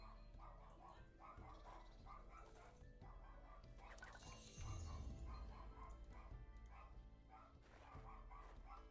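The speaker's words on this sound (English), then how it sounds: "Gosh, the dog's going crazy. Someone just rang the doorbell." A dog barks in a rapid, repeated series set off by a doorbell, the sound faint and somewhat distant, with a brief crash-like burst partway through before the barking resumes.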